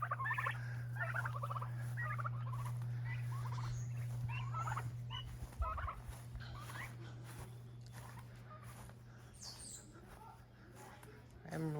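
A young rooster, around eight weeks old, crows a few times early in the morning in a backyard garden, set against a steady low hum, with brief bits of nearby talking.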